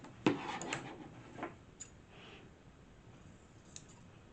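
Scissors snip sari silk for a junk journal tag, giving a few faint, sparse close clicks and soft cutting sounds against a quiet room.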